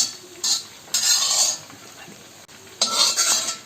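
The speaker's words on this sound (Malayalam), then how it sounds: "ഈ 3 എഗ്ഗ് നമ്മൾ നല്ലോണം ഒന്ന് സ്ക്രാമ്പിൾ ചെയ്തെടുക്കാം, ഒരല്പം ഓയിൽ ഒഴിച്ചിട്ട്" Eggs scrambled in oil in an iron pan: a spatula scrapes and clatters against the metal in three bursts, with a soft sizzle beneath, close by and with no talking.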